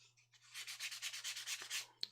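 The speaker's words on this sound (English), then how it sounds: "As you can see, it's sanding really well, though." Baked clay on a nativity doll under repair is sanded by hand, a quick run of about a dozen rhythmic, raspy scrubbing strokes, close and fairly quiet over a faint steady hum, ending with a small tap.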